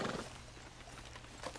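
A horse in Red Dead Redemption 2 shifts and clops its hooves while being hitched, with a low steady ambient hum underneath and a slight stir near the end.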